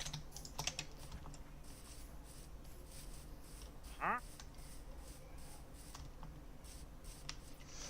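Faint, quick clicks of typing on a computer keyboard come in scattered bursts under a low background hum during a Minecraft stream, with a short louder sweep near the middle.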